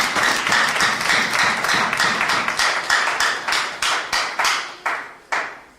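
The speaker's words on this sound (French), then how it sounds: "Applaudissons pour le Seigneur." A church congregation applauds steadily during a worship service, the clapping thinning out into a few final separate claps as it ends.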